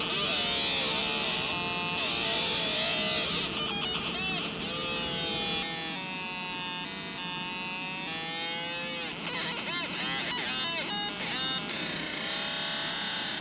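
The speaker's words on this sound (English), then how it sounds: "Behind me you can hear the laser engraver" A laser engraver runs nearby in a gun designer's workshop, a busy layered whine and buzz with warbling tones that shift throughout, over a constant noise floor.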